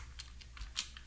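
Quick keystrokes on a computer keyboard, five or six light clicks in an uneven rhythm, close and quiet with no voice.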